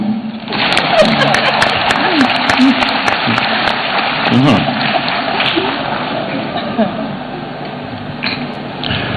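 A room full of people at a bank's annual general meeting in Accra applauds steadily for several seconds, a dense wash of clapping, while a voice speaks over it.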